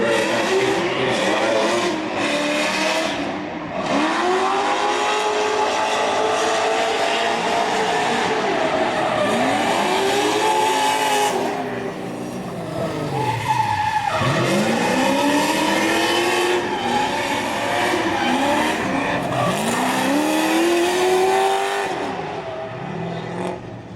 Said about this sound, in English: and that is Josh Weatherborough in that big LS-powered BMW 135i.